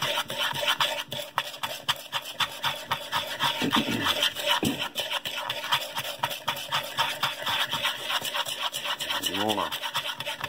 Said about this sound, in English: to get it really mixed in there with the whisk to get all those different spices combined together